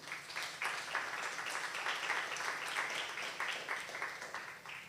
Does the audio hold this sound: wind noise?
no